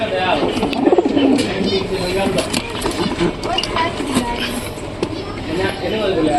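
A pair of pigeons coo in a loft as they settle into pairing, low repeated throaty coos close by, mixed with flutters and scuffling while a person talks over them.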